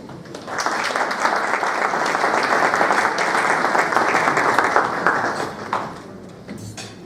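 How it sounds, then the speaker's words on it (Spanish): Loud, sustained applause from a seated audience at a CONEP public-private alliance event welcomes Aida Michelle Maduro, dense clapping holding steady for about five seconds before tapering off. "Recibimos a Aida Michelle Maduro, miembro de la Junta Directiva de CONEP, con un fuerte aplauso"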